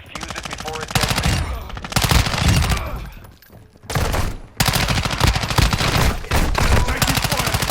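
Rapid bursts of automatic gunfire from the Call of Duty video game, loud close rattling volleys broken by short pauses and a brief lull, with voices and game dialogue faintly under the shooting.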